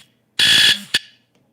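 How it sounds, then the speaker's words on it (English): A wake-up alarm goes off in one loud, bright electronic burst lasting about a third of a second, then a short high beep follows, and the sound fades into quiet. No one speaks. "That's the alarm to wake up."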